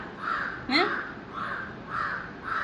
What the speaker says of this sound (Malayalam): കാക്കൻ്റെ സൗണ്ട് കേൾക്കുമ്പോൾ അങ്ങോട്ട് നോക്കും